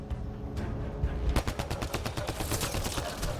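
Rapid incendiary-ammo gunfire from a shooter video game set on an alien world, a dense, continuous burst of sharp repeated shots with a gap early, then steady, loud automatic fire over a low rumbling game backdrop.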